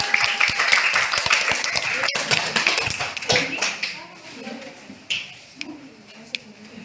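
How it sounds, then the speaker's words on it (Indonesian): A classroom of students breaks into loud, dense clapping that thins out after about four seconds to a few scattered claps, with a teacher's voice heard alongside. "Tepuk tangan dulu untuk kalian semua"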